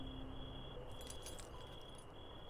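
A bunch of keys jangles briefly in a quick metallic flutter over a steady background hum, close and fairly quiet, lasting about a second.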